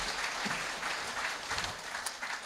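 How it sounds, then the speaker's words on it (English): Applause from an audience at a sports awards ceremony, a continuous spread of many clapping hands at moderate, fairly even loudness, with no speech on top. "I know you've been giving them a round of applause"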